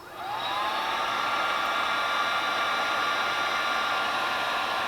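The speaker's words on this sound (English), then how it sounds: "So low and high on the heat gun." A heat gun on its low setting, drawing about 580 watts through an ALLPOWERS R1500 inverter, blows a steady, loud whooshing roar with a faint whine rising at the start, continuous throughout with no talk.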